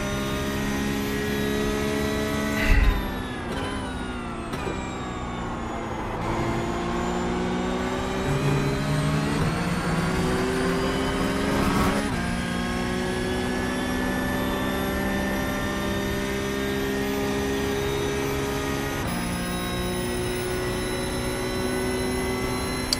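A Porsche 992 Cup race car in iRacing at Watkins Glen, its engine droning loud and close. The tone climbs steadily through the gears, broken by quick upshifts and one brief bump, with no talking over it.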